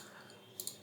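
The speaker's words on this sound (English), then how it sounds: "there's a lot of clicking and stuff in this one" A couple of sharp clicks land close together near the end of a short, quiet stretch with faint background noise and no talking.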